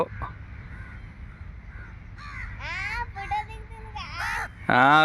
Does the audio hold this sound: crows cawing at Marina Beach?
yes